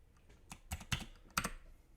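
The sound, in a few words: typing on a computer keyboard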